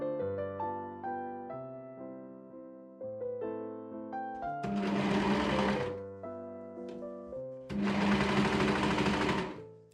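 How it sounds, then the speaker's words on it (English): Sewing machine stitching ankle cuffs onto sweatpants, two close bursts of rapid whirring stitching about a second and two seconds long, set against quiet background music. "machine sew the ankle cuffs in place"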